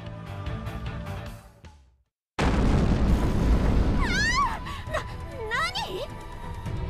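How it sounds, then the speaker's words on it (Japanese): Booming artillery blasts from the Neptunia x Senran Kagura video game, a sudden heavy explosion bursting in after a brief silence and rumbling on under music and voices. "これは砲撃？ 一体どこから？"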